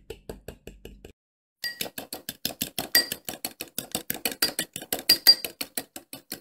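A spoon mixes dairy-free, sugar-free coconut lime macaroon batter in a bowl. It makes a quick, regular series of bright clinks and taps against the bowl, with a short pause before the brisk stirring resumes.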